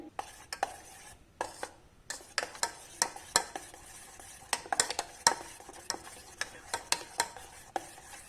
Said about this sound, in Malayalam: നമുക്കിത് നന്നായിട്ടൊന്ന് മിക്സ് ചെയ്ത് കൊടുക്കാം.